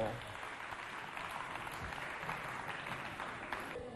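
An audience applauds the jury members at a children's holiday talent event, a fairly faint, steady patter of clapping that runs continuously throughout.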